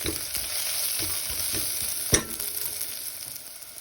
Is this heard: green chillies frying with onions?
yes